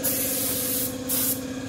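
A pressure-washer jet sprays water onto a Bajaj V15 motorcycle during a bike wash service, a loud, close, steady hiss that dips briefly and then surges again, with a constant motor hum underneath.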